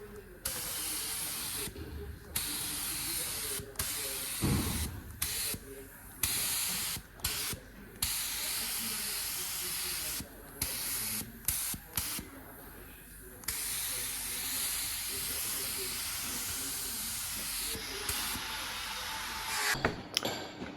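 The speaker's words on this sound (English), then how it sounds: "Time for a bit of paint. I'm using satin black, just like standard factory. Very strong 2-pack paint." Satin black 2-pack paint sprays from a spray gun onto Subaru Impreza WRX parts in long bursts of steady hiss, broken by short pauses between passes, close and fairly loud.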